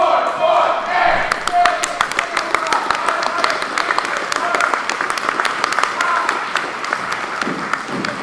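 An audience applauds an air cadet drill team at a Rotary cadet event, a full round of crowd clapping with sharp individual claps and some cheering, and a voice briefly heard over it near the start.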